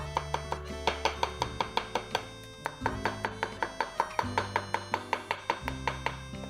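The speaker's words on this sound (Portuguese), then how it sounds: "só dá mesmo essa batidinha com a faca" A knife chops smoked food on a board in quick, steady taps, about a dozen crisp knocks in close succession, near and moderately loud with no talk.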